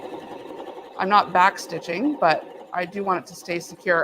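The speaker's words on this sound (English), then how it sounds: "we're going to just sew along this line here" A home sewing machine stitches a straight seam on scrappy place mats, using a lock stitch to secure the start. Its steady whirring runs low beneath a woman's close, continuous talking.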